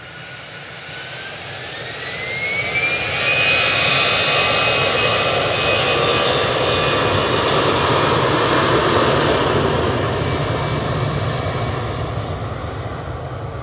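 Boeing 787 Dreamliner jet engines swell into a loud, close roar with rising turbine whines, hold at full strength for several seconds, then slowly ease off, with no voices over it.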